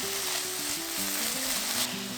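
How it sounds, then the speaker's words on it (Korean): Sliced cucumber and red chili stir-fry in a hot pan with a steady, close, dense sizzle and the soft scrape of stirring, with no voices over it. "후추 톡톡 넣고 살짝 볶아주면 끝!"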